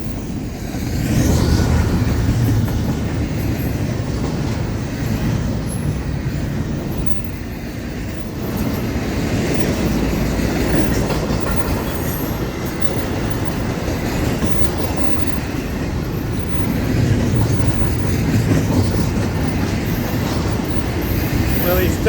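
A Florida East Coast Railway train rumbles past nearby, heavy low rolling noise with wheel clatter that swells and stays loud throughout.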